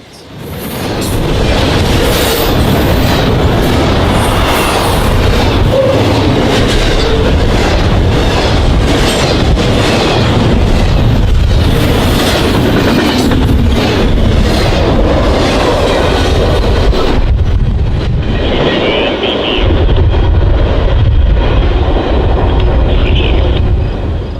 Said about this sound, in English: an array of heritage trains in Northwest Ohio, ranging from office car specials to heritage units on the Norfolk Southern and CSX lines